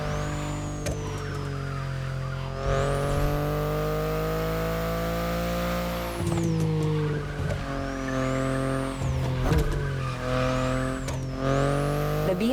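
A BMW i8 in The Crew Motorfest drives with a steady, loud engine note that sweeps up and down through gear changes, with tire squeal breaking out partway through. No one speaks.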